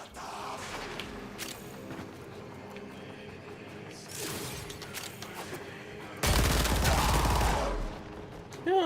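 Incarnon weapon in the Warframe video game firing like a machine gun: rapid automatic bursts of gunfire with a loud sustained volley near the end, over busy game ambience and footstep-like clatter.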